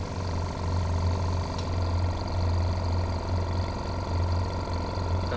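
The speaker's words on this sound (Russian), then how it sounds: "Включаем компрессор." Compressor of a dental CAD/CAM extraction unit running close by, a steady low mechanical hum with a constant rumble and faint rattling, loud and unbroken throughout with no talking.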